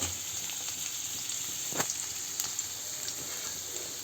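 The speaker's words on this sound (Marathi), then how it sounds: "मी ह्याच्यात घालते उभा चिरलेला कांदा। आधी आपण हा कांदा छान परतून घेऊया।" Sliced spring onion sautés in hot oil in a kadhai, giving a steady soft hiss throughout with a couple of faint clicks.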